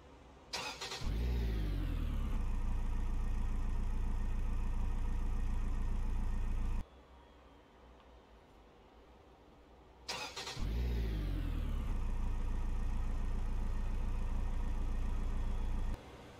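A Volkswagen Passat B8 mod car engine in Euro Truck Simulator 2 starts and settles into a loud steady drone, cuts to near silence, then starts again and holds the same heavy hum, with no talking.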